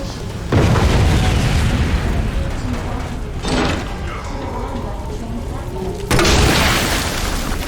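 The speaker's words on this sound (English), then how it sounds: "Just single grenade, boom, done" Grenade blast in Resident Evil 2 Remake, a loud booming explosion with a rumbling tail, followed moments later by a second heavy burst, with game sounds around it.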